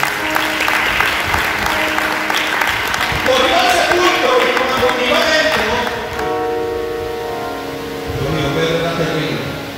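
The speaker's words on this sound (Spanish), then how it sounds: "Un aplauso, por favor, al Señor." A church congregation applauds for the Lord, dense sustained clapping that fills the room while a voice and music carry on underneath, then the clapping thins and fades toward the end.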